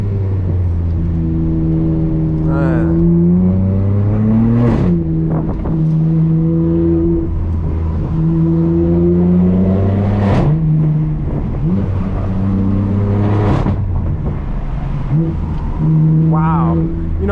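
A straight-piped BMW M4 F82 driven on a road, its loud exhaust droning steadily from inside the cabin, rising through revs and shifting gears repeatedly with sharp crackles between pulls, a voice occasionally speaking over it.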